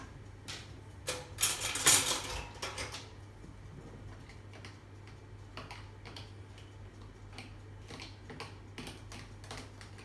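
A fork stirring oats into blended batter, with light repeated clicks and taps against the bowl and a brief busier burst of scraping early on over a low background hum.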